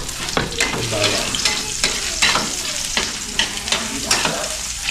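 Garlic and onion frying in a pan for dinuguan, a loud continuous sizzle broken by repeated stirring scrapes of a utensil, close up and without speech.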